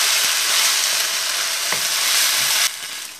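Pad thai being stirred with its sauce in a hot pan, a loud continuous sizzle with brief scraping strokes that suddenly drops in level near the end, no voices.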